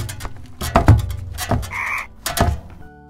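A frog croaking in several short, close, loud calls with gaps between them, alone and without any talking.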